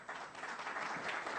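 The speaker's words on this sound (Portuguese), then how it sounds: "E agora, chegando com os aplausos de vocês também" Audience applause at a corporate business lecture event in Brazil, steady dense clapping from a crowd filling the room without a break, fairly faint and distant.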